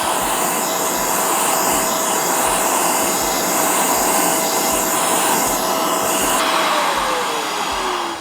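Shark Carpet Xpert carpet cleaner running with its pet tool, a loud steady motor whine and airflow roar, dropping in pitch near the end as the trigger or motor changes.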